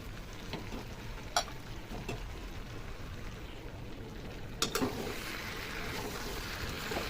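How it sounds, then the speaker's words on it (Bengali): Mutton and fried potatoes are sautéed in a pan with ground spice mix for a Russian-style mutton dish. A soft, continuous sizzle runs throughout, with a couple of sharp utensil clicks. There is no talking. "আলুর সঙ্গে মাংসটাকে কষিয়ে নেবো একটু"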